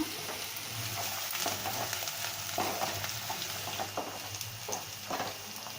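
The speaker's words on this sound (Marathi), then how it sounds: "आता कांदा चांगला परतून घ्यायचा आपल्याला" Chopped onion with curry leaves and green chilli sautéing in a pan for a cabbage and pea curry, giving a steady close sizzle with scattered scraping stirs throughout.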